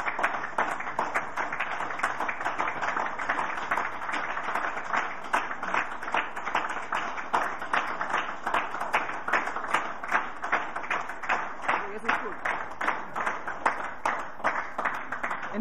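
An audience at a German political party members' meeting applauds after a speech, steady dense clapping from many hands, sustained and even throughout.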